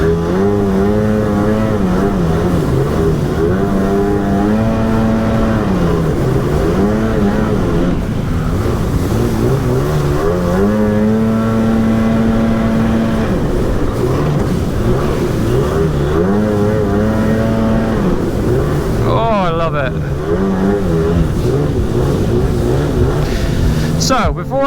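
A Sea-Doo Spark Trixx personal watercraft under way, its engine droning loudly and steadily with repeated rises and falls in pitch as the throttle changes, close up.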